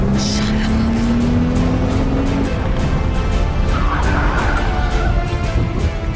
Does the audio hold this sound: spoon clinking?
no